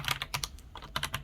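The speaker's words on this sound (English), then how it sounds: "It's like a soft kind of linear mechanical keyboard" Keystrokes on a Roccat Vulcan Pro mechanical keyboard with red linear switches, a soft, damped flurry of close-up clicks in two short bursts separated by a brief pause.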